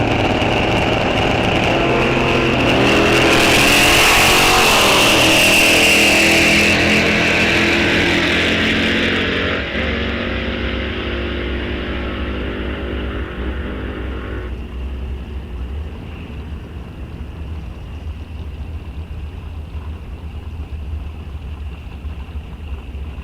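A Corvette launches down the drag strip at Rock Falls Raceway, its engine roaring loud and close before fading away into a steady distant rumble.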